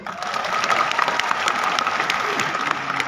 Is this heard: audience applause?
yes